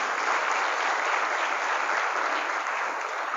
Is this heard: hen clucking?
no